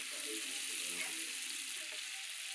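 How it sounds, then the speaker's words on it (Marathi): Jilebi fish coated in masala fries on a tava, giving a close, steady sizzle with a constant hiss throughout and no voices. "तव्यातच करतात बघा या माशाला"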